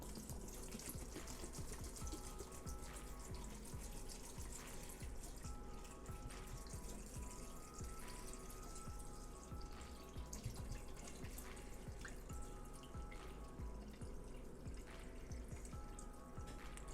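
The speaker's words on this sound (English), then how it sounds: "So I'm just going to add my water." Water poured into an Instant Pot up to the max line, a continuous close splashing stream with running-tap texture, steady for the whole stretch.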